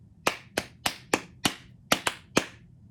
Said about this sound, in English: if you could clap this back for me